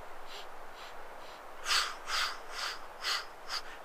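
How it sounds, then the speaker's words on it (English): Rhythmic breathing during a Pilates hundred-pulses exercise, a series of about six short, breathy exhalation bursts that grow stronger in the second half, with no talking. "breathing in for 5 and out for 5"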